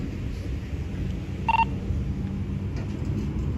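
A single short burst of telephone keypad tones, a brief dialing beep over a steady low rumble, as someone dials out for a phone call during a roadside detention confrontation.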